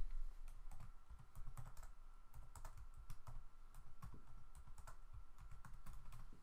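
Rapid, irregular clicking of keys on a computer keyboard as a name is typed in, a steady run of close, crisp taps with no voices over it.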